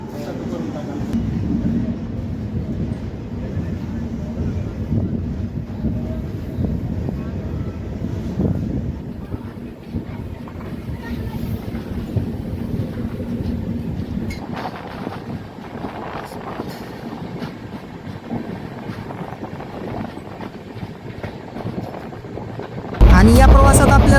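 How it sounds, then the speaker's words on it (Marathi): A passenger train pulls away from Basmat railway station in India, heard as a steady, continuous low rumble with wind noise across the microphone throughout, ending in a sudden louder burst. "8:46 बसमत रेल्वे स्टेशनवरून आपली ट्रेन निघालेली आहे"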